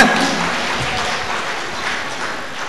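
An audience at a Tamil Nadu Science Forum meeting breaks into applause, a dense, even clatter of many hands clapping that holds steady for a few seconds and fades slightly, with no talk over it.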